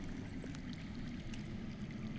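In a Game of Thrones video game, underground water makes a low, steady rushing and gurgling flow. The sound is faint and continuous, and no one speaks.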